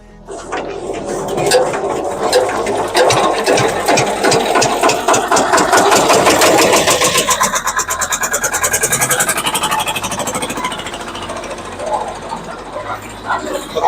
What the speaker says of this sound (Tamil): இப்போ பார்த்தீங்கன்னா இன்ஜின் ஸ்டார்ட் ஆயிடுச்சு.